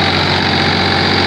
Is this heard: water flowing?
no